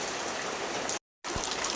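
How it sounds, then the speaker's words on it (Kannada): Steady morning rain falls outside a rural home with a garden plot, giving an even, soft watery hiss that cuts out briefly in the middle before resuming. "ಇವತ್ತು ನೋಡಿ ಬೆಳಗ್ಗೆಯಿಂದನೇ ಮಳೆ."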